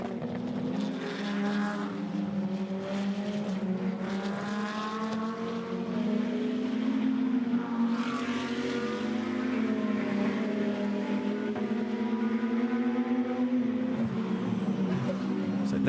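GT2 race car lapping the Spa circuit during a GT2 European Series race, a steady engine drone with pitch rising and falling through gear changes and corners, loud throughout, with commentary talking over it.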